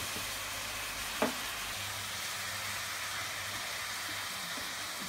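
Chicken pieces sauté in a pan for chicken kuzhambu, a soft steady sizzle running throughout at low volume, broken by one brief clink near the start.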